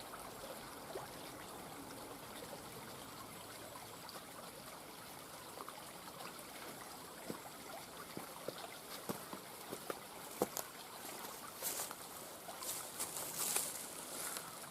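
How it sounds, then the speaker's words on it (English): River water flows steadily nearby with a soft, continuous rush, scattered faint splashes and knocks toward the end. "Lucky for me, I've got a river."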